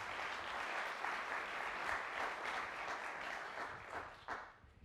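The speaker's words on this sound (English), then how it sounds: "Let's give NYU a big round of applause" A conference audience applauding its host sponsor NYU, a steady, even round of clapping from a large room, heard somewhat distant and faint, tapering near the end.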